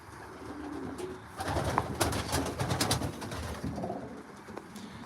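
Racing pigeons coo in a loft, with soft overlapping throaty calls rising in the middle and fading toward the end, heard close and fairly loud with no voices.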